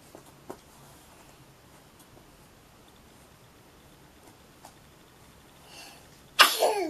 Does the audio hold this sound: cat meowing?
no